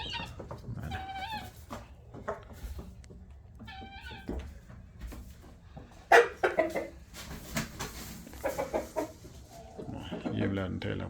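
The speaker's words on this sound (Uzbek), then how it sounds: "Xo'rozlarimiz bor." Roosters and chickens clucking and calling in a poultry yard, with repeated nearby clucks and calls, a voice talking at times underneath.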